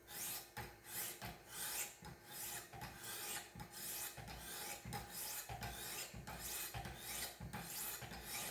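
A knife blade is stroked back and forth on a fine sharpening stone, making a rhythmic series of raspy scraping strokes about once per second, close and steady with no talking.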